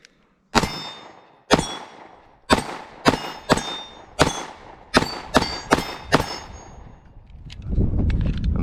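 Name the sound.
Beretta PX4 Storm Compact pistol rounds hitting steel plates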